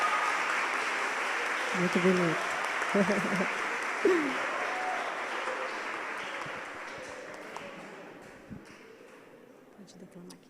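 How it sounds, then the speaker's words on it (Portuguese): Applause from an audience at a talk, broad and steady through most of the stretch and slowly dying away toward the end, with a few voices speaking over it. "Aplausos, gente."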